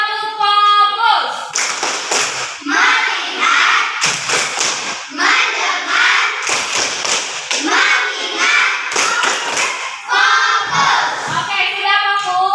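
A classroom of children repeats a focus clapping game, sharp group claps landing in a steady pattern between bursts of chanting voices, close and loud throughout.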